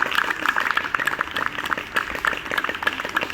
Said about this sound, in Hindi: तालियों में जोश नहीं है,